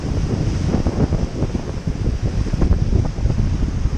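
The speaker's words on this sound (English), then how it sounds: "The waves just keep crashing over where I am" Rough sea surf on the Malta coast surging and crashing over rocks, a close, loud, continuous wash of churning water mixed with wind buffeting the microphone, with no voices.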